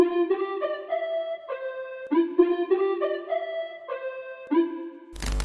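A melodic sampled texture from a Phantom Texture Kit layered into a hip-hop beat: bright, bell-like repeating notes in a looping phrase, steady and upfront with no voices.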